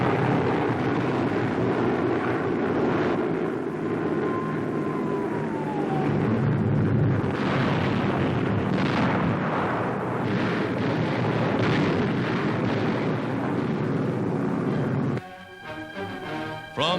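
Bombs dropped from Allied aircraft exploding over Nazi Europe in 1943 wartime newsreel footage, a rumbling sequence of heavy blasts and roaring bursts, loud and continuous with a sharp change near the end.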